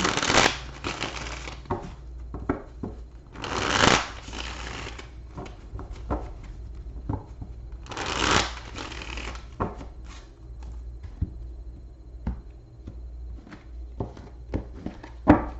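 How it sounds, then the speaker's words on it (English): Tarot cards are shuffled in several quick riffling bursts, with softer taps and card handling in between, close and fairly quiet. "Let me just shuffle the clarifiers here."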